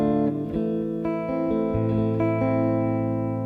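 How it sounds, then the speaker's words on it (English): A guitar fingerpicks a song up close, single notes plucked one after another in a steady pattern and left ringing together, with no voice over it. "Or if we're picking it"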